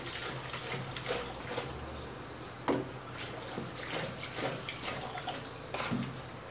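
Water poured off from a container of coffee grounds being prepared as garden fertilizer, a continuous wet trickle and splash with small drips and a brief louder splash partway through, close by and with no talking.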